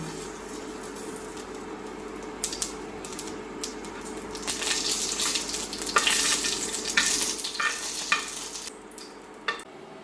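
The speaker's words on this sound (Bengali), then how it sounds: "দিয়ে দেবো 2টা শুকনো মরিচ, দেবো কালো জিরা," Dried red chillies and nigella seeds fry in mustard oil, giving a steady crackling sizzle with stirring scrapes that build louder toward the middle, heard up close with no talk.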